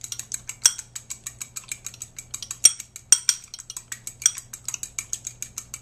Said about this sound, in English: I'm going to go ahead and kind of beat the egg whites a little bit